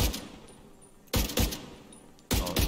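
Weapon in The Division 2 firing three separate bursts, each a loud, sharp pair of blasts in quick succession, spaced about a second apart over faint background game ambience.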